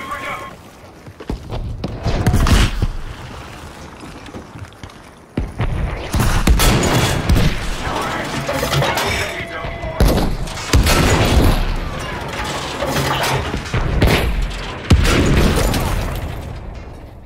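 Heavy explosions boom as tanks are blown up in Battlefield V, with loud bursts and scattered gunfire coming in waves amid battle noise, while someone talks excitedly over it.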